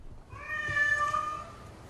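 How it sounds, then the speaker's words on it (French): A cat meows indoors on the dry upper floor of a flooded house, one drawn-out, clear mew, fairly close, with quiet background noise and no talking. "C'est votre chat qu'on entend?"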